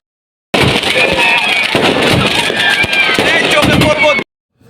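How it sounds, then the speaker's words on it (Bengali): New Year's Eve fireworks crackle and pop in rapid bursts amid a loud, dense wash of noise, with people talking and shouting nearby. "এই তো আমাদেরও এখন আতশবাজি স্টার্ট।"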